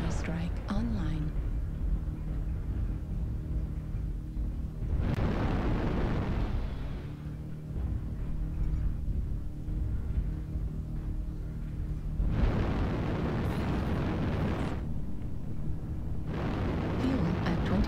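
Three Snub PPC weapons on an SHK-2K mech in a MechWarrior game, firing heavy crackling energy blasts that swell and decay in a few long bursts over a low mechanical rumble.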